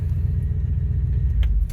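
A 1971 GMC dump truck engine idles with a close, steady low rumble, with a faint metallic jingle near the end.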